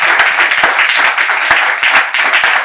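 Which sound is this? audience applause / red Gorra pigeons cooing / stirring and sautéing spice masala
audience applause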